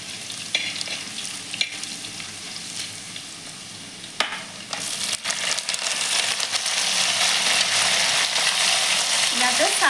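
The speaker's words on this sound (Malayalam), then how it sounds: "സവാളയും പച്ചമുളകും ഇട്ട് കൊടുക്കാം. വെളുത്തുള്ളി ഒന്ന് വാടിയിട്ടുണ്ട്." Sliced onions, green chillies and garlic sizzle in hot oil for a mutton curry, with steady crackling frying and occasional stirring clanks, growing louder near the end.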